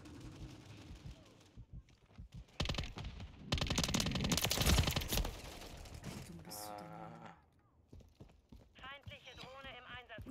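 Gunfire in a Call of Duty: Modern Warfare 3 battle, rapid rattling bursts in the middle of the stretch between quieter passages, with a voice talking in German at the start and end.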